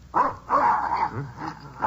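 Dog barking in a 1950 radio drama, four fairly close, evenly spaced barks with a whimpering, hungry tone.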